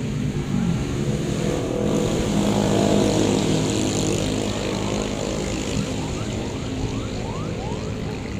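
A drone's propellers whine steadily through strong wind noise, the motor pitch rising and sweeping upward near the end.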